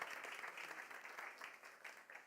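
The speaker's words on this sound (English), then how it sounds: "Un aplaudiment abans de començar." A large audience at a talk about global crises and the Global South applauds before the speech begins, with dense, steady clapping that fills the room and stays fairly even throughout.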